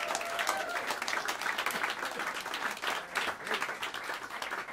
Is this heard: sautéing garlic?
no